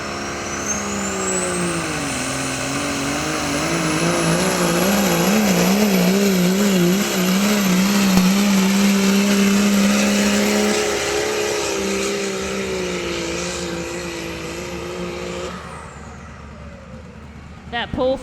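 A pickup truck roars at full throttle during a truck pull, engine revs wavering and climbing over a long, heavy drag before easing off near the end, loud and close, with an announcer's voice over it.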